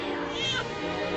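A woman playing Catwoman in a 1992 film trailer gives a short, drawn-out cat-like meow, a voice imitating a cat, over a dense music and effects bed.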